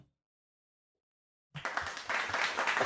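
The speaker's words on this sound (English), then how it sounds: "I'm clapping because he made it out, not because he did it." After a stretch of near silence, a group suddenly breaks into clapping, a dense and lively patter of many hands that keeps going at a steady loud level until the end.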